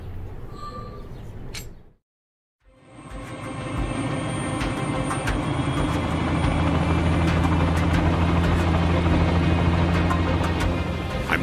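A private aircraft's engine in the video game Dead Reckoning rises out of a brief silence into a loud, steady, low droning hum that holds evenly to the end.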